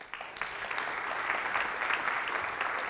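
A live audience at a Logic Pro X masterclass applauds as the guitarist Marius walks onto the stage, a steady burst of clapping that swells quickly and holds for a few seconds.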